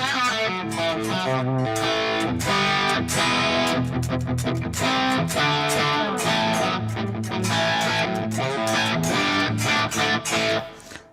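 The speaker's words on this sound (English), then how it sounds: "that is what the amp sounds like with nothing but preamp gain. That's all phase inverter distortion." Distorted electric guitar played through a hand-built tube amplifier driven only by preamp gain, with phase inverter distortion, strummed chords and riffs ringing loud and gritty for about eleven seconds, with no talking.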